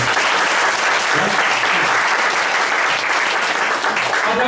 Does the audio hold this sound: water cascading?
no